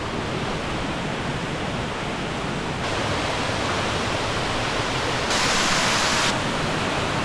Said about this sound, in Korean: 와, 메캄폭 폭포에 왔습니다.